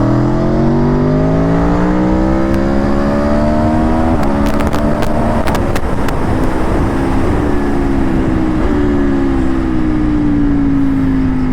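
An Aprilia Tuono V4 motorcycle engine revs up under hard acceleration, pitch climbing steadily with a brief shift dip, loud and close throughout.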